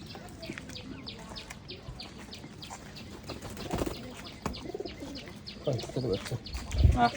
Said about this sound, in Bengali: কবুতর আহ আহ